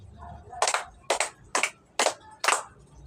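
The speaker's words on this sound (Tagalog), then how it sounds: "bigyan ng 5 palakpak ang unang pangkat" A class in a schoolroom claps in unison five times for a group: five sharp, evenly spaced bursts of many hands over about two seconds, close and loud against a quiet room.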